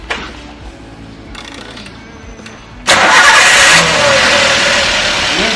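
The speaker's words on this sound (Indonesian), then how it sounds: "Sekarang kendaraan ini saya nyalakan." A car engine cranks and catches at about three seconds, then settles into a loud, steady run with a brief initial rev. The car is under engine management service and has a deliberately faulted engine sensor.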